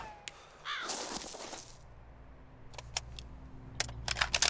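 A bird calls in the survival video game DayZ, with a few short, bright, clipped chirps that come and go against quiet ambient game sound and some soft rustling.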